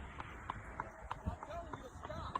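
A ridden horse's hooves clip-clop on pavement during a roadside stop, a quiet, fairly regular series of hoof strikes under traffic noise.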